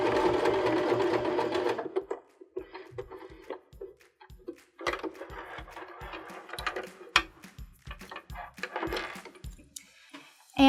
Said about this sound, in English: And back stitch again for reinforcement.